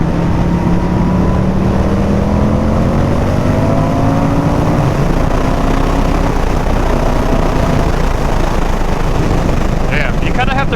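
A 2023 Indian FTR 1200 Carbon R motorcycle engine revs with its pitch climbing steadily, then churns on under heavy wind rush against the microphone while riding.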